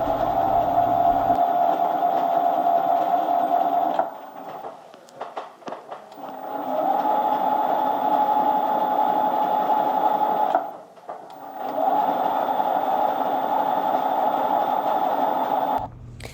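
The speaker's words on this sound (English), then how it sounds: "So I'm going to sew along the next edge just a little bit before I put that first center in." A sewing machine quilting along the edge of a quilt-as-you-go block runs in a fast, even whirring hum in three long stretches, stopping twice briefly for handling noises before starting again, close and clear.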